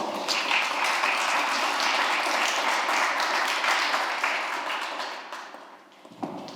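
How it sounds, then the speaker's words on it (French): Conference audience gives sustained, dense applause that holds steady, then thins and fades out toward the end with a last few scattered claps. "Sous les applaudissements nourris."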